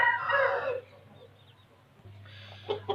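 A rooster with a swollen, infected throat lets out a loud, harsh crow up front, then quiets to a low hum before a few short clucks near the end.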